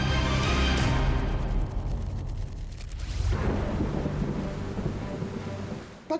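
Heavy rain pours steadily during a rainy-season thunderstorm, with a dense, roaring wash of rainfall and low rumbling that eases slightly partway through, with no voices.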